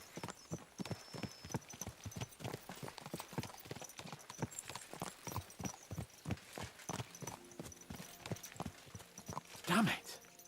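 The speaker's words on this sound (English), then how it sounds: "Let's really spur these horses on, eh?" Horses' hooves clip-clop in a steady, fast rhythm in the game Kingdom Come 2, fairly close and continuous, with speech over them and a brief louder burst near the end.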